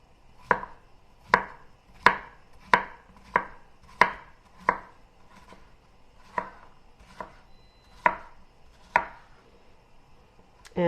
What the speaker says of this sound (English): I'm going to slice that up.